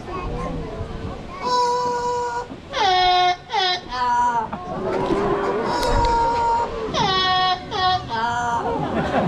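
A parrot at African Lion Safari's Parrot Paradise sings the Canadian national anthem in a shrill, whistled, voice-like warble, with bursts of rising and falling phrases over faint background chatter.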